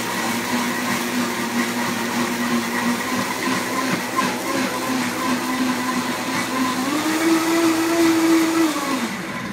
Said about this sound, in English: we're gonna just toss that onto the blender.